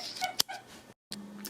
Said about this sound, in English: That's the dog wanting to go out.